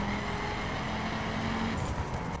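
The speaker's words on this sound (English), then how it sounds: "And the freaking turbo sound is awesome." Ford Focus RS turbocharged four-cylinder accelerating in the racing game The Crew, a steady loud engine drone with a sustained tone throughout and no talking.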